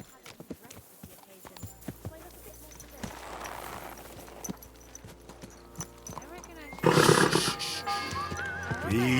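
Hooves clop irregularly at close range, and a loud horse whinny rises near the end, from the video game Kingdom Come: Deliverance II.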